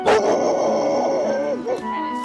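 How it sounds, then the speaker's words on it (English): Dogs yap and whine close by, a high, tonal vocalizing that runs through the whole short moment, with a sharper yelp near the end. "Matthew, they're barking because they like you."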